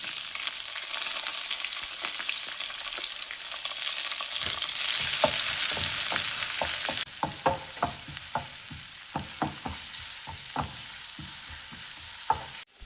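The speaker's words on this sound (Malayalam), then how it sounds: "ഇതിലേക്ക് അരിഞ്ഞു വെച്ചിരിക്കുന്ന സവാള ചേർക്കാം." Chopped onions frying in hot coconut oil with mustard seeds and curry leaves, a steady close sizzle that surges loudly, then settles while a spoon scrapes and taps the pan in irregular strokes.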